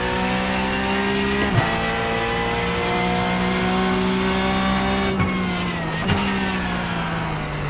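Porsche GT3 Cup cars launch from the race start in the iRacing video game, a steady droning engine roar held at high revs, broken by a few brief gear-shift dips, loud and continuous.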